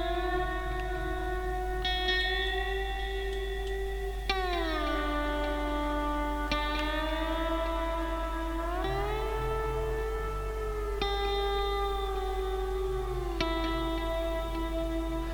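A lap steel guitar played through a Neural DSP Archetype Plini amp with reverb sings sustained, sliding notes that glide between pitches like a wailing siren, each new note picked sharply and ringing into a reverberant tail.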